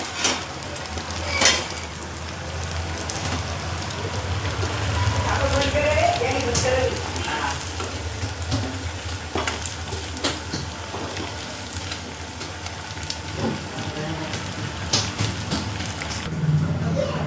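Sabudana vadas deep frying in hot oil, a steady close sizzle and crackle of bubbling oil running throughout, with a few brief clinks over it.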